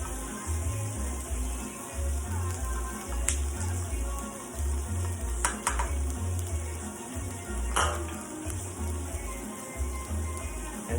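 Food sautés in a pan on the stove with a soft steady sizzle, broken by occasional sharp clinks of a utensil against the pan.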